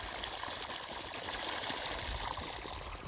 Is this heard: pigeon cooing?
no